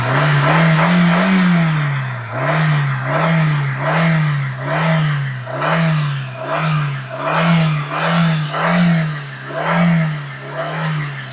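A Maruti Suzuki WagonR car's engine is revved repeatedly, about eight rising and falling surges in a steady rhythm, loud and close with no talk.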